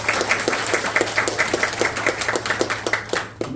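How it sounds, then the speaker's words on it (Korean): Steady applause from a crowd at a local residents' meeting in Daegu, South Korea, fills the clip, dense even clapping throughout without a break, fairly loud and close. "큰 박수 부탁드립니다."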